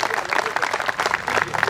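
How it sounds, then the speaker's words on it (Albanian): Brief burst of crowd applause at an election rally, dense clapping from many hands with a lively, uneven texture, fairly loud and close, lasting under two seconds. "kërkoj për jush edhe duartrokitje të fortë"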